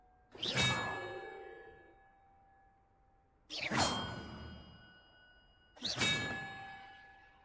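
Large bells rung in the video game Hogwarts Legacy, three separate loud metallic strikes a couple of seconds apart, each with a bright clang and a long ringing decay.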